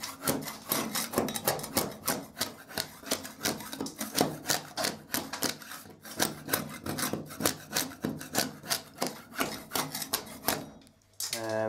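A hand scraper drags repeatedly across a surface during home decorating, giving a steady run of loud, close, rhythmic rasping strokes with a brief pause near the middle.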